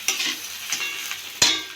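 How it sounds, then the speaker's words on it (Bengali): Gobindobhog rice frying in a pan for muri ghonto with fish head, stirred in short scraping bursts over a steady sizzle, with a sharp louder scrape near the end; close and alone, no talk. "চালটা আমার ভাজা ভাজা হয়ে গেছে ভালো"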